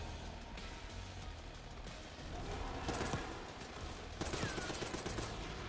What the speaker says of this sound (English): Those guns over there really help us out.